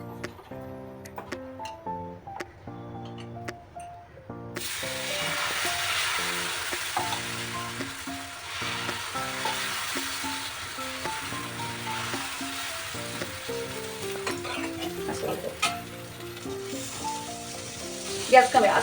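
A fasting paratha fries in a little oil on a griddle, a steady soft sizzle starting suddenly and continuing under background music and a voice talking.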